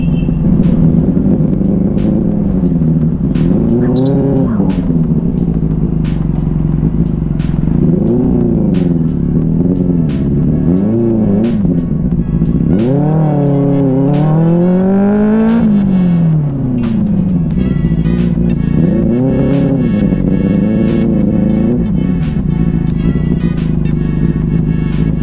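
Motorcycle engine recorded on a GoPro Hero 10 while riding: a steady, loud drone with repeated rising and falling revs through gear changes and wind noise throughout, with no talking.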